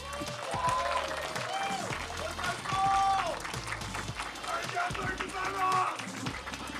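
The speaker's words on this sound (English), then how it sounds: "Give them a round of applause." Crowd applause and cheering for the Street Fighter 6 top 8 players at the BAM 14 2024 finals, a loud, sustained wash of clapping with whoops and voices mixed throughout.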